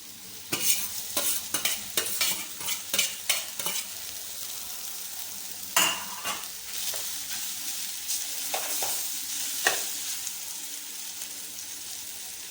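Maggi noodles are stirred and tossed in a hot pan: a run of sharp, rhythmic scraping strokes over a low sizzle, then slower, sparser stirs.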